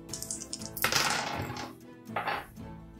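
Six-sided dice rolled in a tabletop role-playing game, giving a clattering burst of hard little impacts with a second shorter rattle after, close and fairly quiet, no talking.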